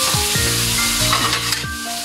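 Beef intestines (isaw) being sautéed for pinapaitan make a loud, close, continuous sizzle, with metallic scraping strokes from stirring recurring through it and no voices.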